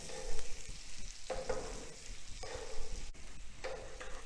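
Prawns shallow frying in butter and garlic, crackling with a steady close sizzle while being stirred, with occasional utensil scrapes against the pan.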